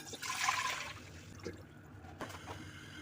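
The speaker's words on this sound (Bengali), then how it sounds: "কিছু পানি পাতে দিয়ে দিলাম" A short splash of water poured into a pot, then a few faint drips and a light clunk, close by.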